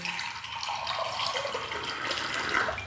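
Steady rushing and trickling of a small stream, continuous and fairly close, with no voices.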